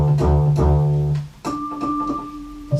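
Casio CZ-5000 phase-distortion synthesizer playing deep bass notes, loud and close, with two rhythmic repeated bass hits followed by a sustained held tone and softer plucked accents, no voices.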